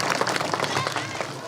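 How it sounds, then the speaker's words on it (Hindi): A gathered crowd in Sardhana claps for a guest during a discussion of Indian Muslims. The applause is a short, brisk burst of many close hands, fairly loud, with voices mixed in. "मलिक साहब के लिए जोरदार तालियां बजा दीजिए भाई"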